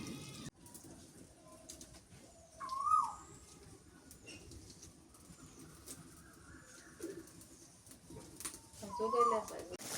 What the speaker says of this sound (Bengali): এই সময় কোকিলের ডাকটা ভালোই লাগে। কোকিল সব সময় আমাদের এই পাশে ডাকে